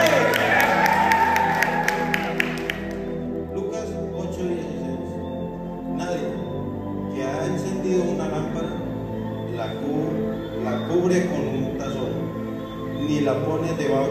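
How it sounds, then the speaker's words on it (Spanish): An audience bursts into brief applause and a few cheers in a church-style teaching gathering, the clapping dense at first and then thinning under ongoing talk. "Un aplauso para José."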